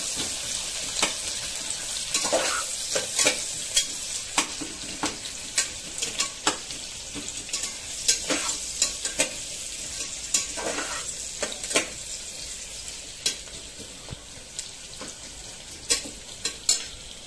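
Sliced onion sautéing with whole spices in a pan for palak pulao, stirred steadily, giving a continuous close sizzle broken by repeated scraping and clinking strokes, with no talking.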